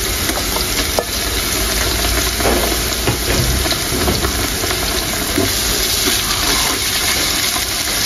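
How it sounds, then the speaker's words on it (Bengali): Ginger, garlic and onion paste frying in a pan, a loud, continuous sizzle and hiss with faint stirring scrapes, close and unbroken, no one speaking. "আদা রসুন পেঁয়াজ একটু লাল লাল করে ভেজে নেব"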